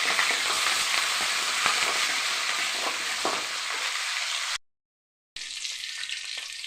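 Urad dal, onion and curry leaves fry in hot oil with a steady, loud sizzle and occasional stirring scrapes; the sizzle cuts out briefly near the end, then returns.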